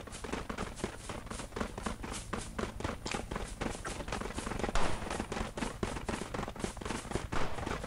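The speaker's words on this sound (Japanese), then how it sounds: "銃声はするね。" Rapid gunfire in the battle royale mobile game Knives Out, dense bursts of shots cracking in quick succession, loud and continuous with footsteps-like thuds mixed in.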